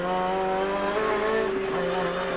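A 1990 touring race car at Symmons Plains, its engine note held loud and close with steady harmonic tones that waver and shift pitch briefly mid-pass.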